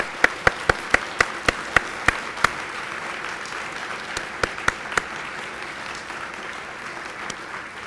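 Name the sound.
audience applause at a gala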